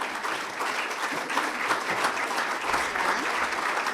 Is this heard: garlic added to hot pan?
no